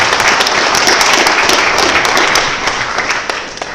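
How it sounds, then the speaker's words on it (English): Audience at a public meeting about a GE nuclear site breaks into sustained applause, a loud, dense, even roar of clapping that holds steady and eases slightly near the end. "So you should all applaud yourselves right now."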